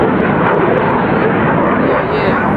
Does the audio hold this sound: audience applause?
no